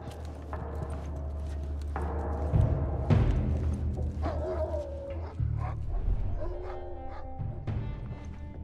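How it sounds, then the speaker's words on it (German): Dogs in The Last of Us Part I bark and let out drawn-out howls and whines at a moderate distance, layered over a low, steady rumble. "die Hunde im Hintergrund"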